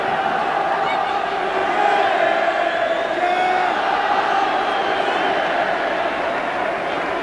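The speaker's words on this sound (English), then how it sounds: "And the Southampton supporters applauding their team" Southampton supporters in a packed stadium at a 1994 Premier League match against Blackburn make a sustained crowd roar with cheering and clapping, a dense steady wall of sound with shouts mixed in.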